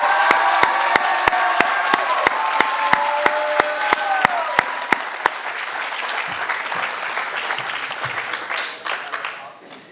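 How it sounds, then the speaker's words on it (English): Loud crowd applause for athletes at a JCC Maccabi Access closing ceremony, dense steady clapping with some cheering that swells and then gradually thins out over about ten seconds, with a few voices audible near the end. "let's give one more huge round of applause for our athletes."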